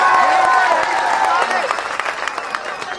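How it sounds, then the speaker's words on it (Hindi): An audience at a poetry recital applauds loudly, a dense wash of clapping that slowly thins out, with voices calling over it at first. "सारे लोग तालियां बजाकर आदेशित करें।"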